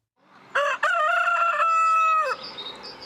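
A Marans rooster gives one loud, close crow lasting about two seconds, sustained and tonal, ending in a short trailing call, against a quiet background.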